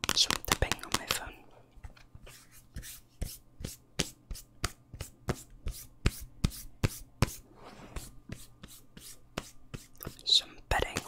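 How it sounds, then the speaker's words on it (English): Fingertips tap on a phone close to the microphone in a quiet ASMR setting, a steady run of crisp, evenly spaced taps after some soft whispering at the start. "Some tapping on my phone."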